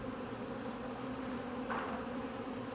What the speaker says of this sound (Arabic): ما تخافيش من النحل، ما تخافيش.